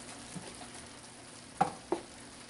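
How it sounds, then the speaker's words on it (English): Onion frying soft in a pan for a dehydrated eggplant and ground lamb moussaka gives a low, steady sizzle, broken by two sharp stirring clinks near the end. "I'm going to let my onion cook till it's soft."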